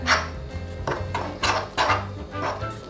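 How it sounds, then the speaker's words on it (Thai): A spoon stirring sauce ingredients and garlic in a bowl, giving a series of close scraping, knocking strokes against the bowl with short pauses between them. "เดี๋ยวเราจะคนส่วนผสมทั้งหมดนะคะให้เข้ากัน"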